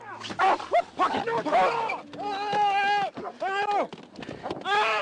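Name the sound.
police dog barking during arrest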